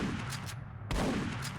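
A single loud AK rifle shot in the video game Blocky's Revenge, a sharp blast at the start and again near the middle, each followed by a deep thudding boom that rings on.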